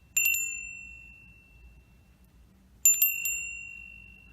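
A small ritual bell gives two bright, high metallic dings, each struck a few times and left to shimmer and fade slowly in a quiet room.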